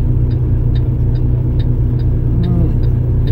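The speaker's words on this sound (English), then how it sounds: "That little car beside me." A small car creeps up alongside a motorcycle in Nashville traffic, its engine a steady, close low rumble with faint ticking above, continuous and without voices.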